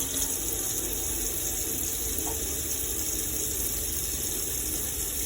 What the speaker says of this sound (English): We'll have hot water coming through the tap.